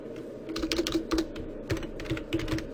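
Rapid keystrokes on a computer keyboard while entering variable names into SPSS statistics software, an irregular stream of close, crisp clicks with brief pauses between bursts.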